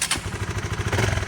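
A motorcycle engine runs close by, a steady low throbbing idle pulsing evenly throughout with a faint clatter on top.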